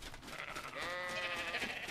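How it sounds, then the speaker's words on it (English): A sheep being ridden in ARK Genesis Ascended gives a single quiet, wavering bleat that rises and holds for about a second over faint background noise. "Riding a sheep is the goofiest thing ever"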